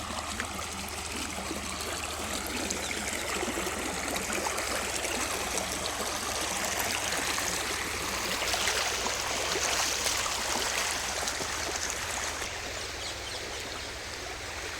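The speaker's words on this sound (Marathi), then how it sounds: "पाणी आलंय बघा कॅनलला भरपूर" Water flows in an irrigation canal in a continuous rushing, gurgling wash at close range, with faint birds in the background and no talking.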